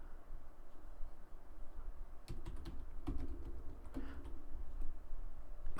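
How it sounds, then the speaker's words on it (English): Keystrokes on a computer keyboard during a civil design drafting session, a few scattered clicks and short bursts of taps over a low steady room hum, fairly quiet and close. "Just typing things out."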